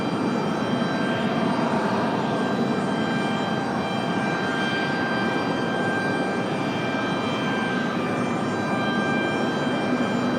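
An Alaska Airlines jet departs from Raleigh-Durham International, its engines a steady, broad roar that holds loud and even throughout with no pauses.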